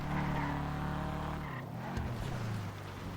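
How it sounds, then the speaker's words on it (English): A tuned Sultan car in GTA 5 rallying over bumpy ground with oversteer, its engine droning steadily and loud up close, tires scrubbing and skidding, the tone shifting and easing off halfway through. "It feels like a rally car and it sounds like a rally car."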